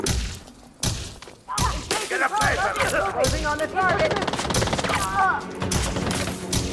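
Ship weapons fire at enemy ships in Elite Dangerous, a rapid string of loud gunfire bursts and thuds with sharp onsets, laid over a steady game soundtrack with warbling tonal effects.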